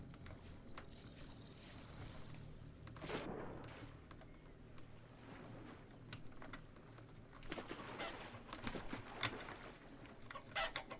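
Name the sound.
chickens clucking in Vintage Story video game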